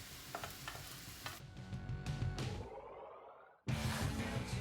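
Beet fritter batter goes into a frying pan over medium-high heat, giving a quiet, steady sizzle with scraping stirs and a short drop-out before the frying hiss resumes, faint overall.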